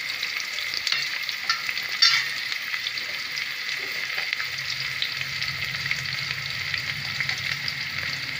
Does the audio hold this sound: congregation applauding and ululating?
no